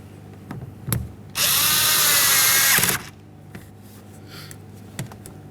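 Power tool briefly driving a window regulator mounting bolt on a 1994-1997 Honda Accord rear door: one loud continuous whirring burst of about a second and a half, close by, with faint handling clicks before and after.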